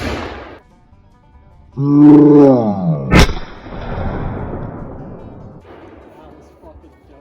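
A gunshot sets off Tannerite packed in a snowman outdoors, a single sharp, loud crack and blast that rolls away in a long rumbling decay, just after a drawn-out shouted voice.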